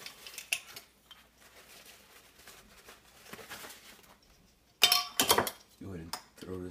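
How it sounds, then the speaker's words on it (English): A metal lid is set onto a glass canning jar, giving a few bright clinks and rattles that come in a short, loud burst after a quieter stretch of handling noise. "Go ahead and throw this lid on."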